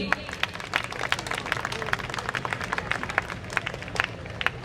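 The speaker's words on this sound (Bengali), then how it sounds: "হাততালিটা একটু জোরে।" An audience claps steadily at a Durga Puja memorial-plaque presentation, a dense, even patter of many hands continuing throughout at moderate loudness.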